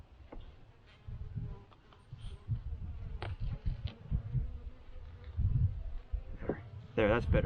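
Honey bees buzz around an opened hive during an early spring brood inspection, a steady droning hum with rising agitation, under intermittent close handling noises and talk.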